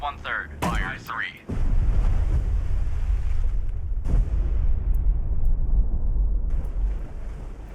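Destroyer gunfire in Destroyer: The U-Boat Hunter, with a sharp crack followed by a sustained low rumbling boom over wind and sea noise. A voice speaks briefly just before the blast.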